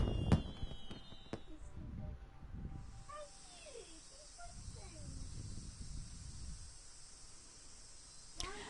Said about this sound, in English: The night sky lights up with fireworks.